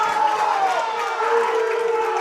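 Spectators at a girls' Class L lacrosse semifinal, Darien against Wilton, make a continuous crowd murmur with scattered calls and a faint whistle-like tone, all at a moderate level throughout.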